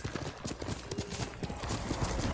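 Horse hooves clip-clop at a steady walking rhythm in the samurai video game Ghost of Tsushima, close and fairly quiet, with a brief faint talking voice mixed in.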